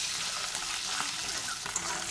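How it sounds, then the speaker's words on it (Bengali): An egg fries in oil in a kadai with turmeric powder and salt, giving a steady, soft hiss and crackle that runs without a break for a couple of seconds, close and even. "প্রথমে আমি ডিমটা ভেজে নেব"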